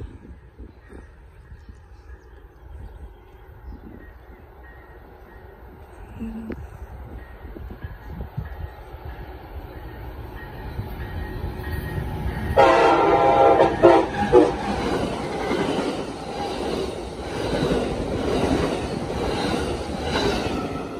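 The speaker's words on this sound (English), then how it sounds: "Amtrak P029 heading to Chicago, Illinois." An Amtrak P029 passenger train led by an ALC 331 at Germantown, bound for Chicago, approaches with rising rumble and sounds its horn, then rolls past loudly with rattling wheels.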